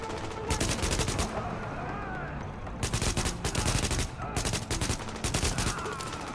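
Bursts of automatic gunfire from the video game Tom Clancy's The Division, several rapid volleys at about 0.5, 3, 4.5 and 5.5 seconds, loud and close over a steady noisy game background.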